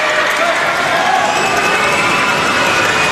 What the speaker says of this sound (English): I didn't think the crowd could get any louder, but they certainly have lifted as well.